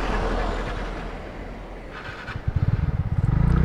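TVS Ntorq scooter with a nearly empty fuel tank, its engine struggling and then sputtering into life with a rapid, uneven pulsing putter, close and moderately loud.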